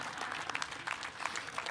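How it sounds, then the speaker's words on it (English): A commencement crowd at Cal Maritime claps in a short burst, many hands applauding at a moderate distance with uneven, scattered claps standing out. "Go ahead, clap."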